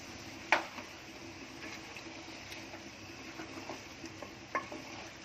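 Chicken pieces frying in masala in a pan, a quiet low sizzle with a sharp metallic clank near the start and a few lighter scrapes and taps of a spoon stirring.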